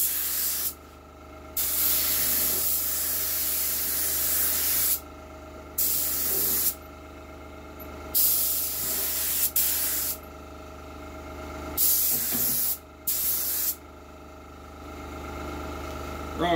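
A spray gun laying a light dust coat of 2K paint during a DIY car respray, with repeated loud hissing bursts of a second or two, separated by short gaps, over a low background hum.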